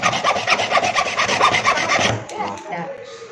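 A hand saw cuts through wood for a pan flute in quick, steady back-and-forth rasping strokes, close and loud, then it slows and trails off into scraping.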